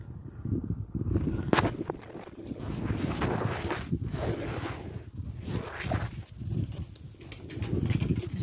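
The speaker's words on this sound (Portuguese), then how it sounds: "Hoje aqui amanheceu ventando" Steady gusty wind rushing and buffeting close by, rising and falling in waves throughout.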